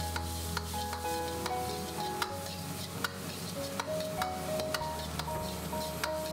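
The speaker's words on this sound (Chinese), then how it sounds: "把肉末炒散炒开后" Minced pork stir-fried in a hot wok with a little oil, a quiet continuous sizzle broken by regular scraping and tapping of a spatula against the metal, with no talk.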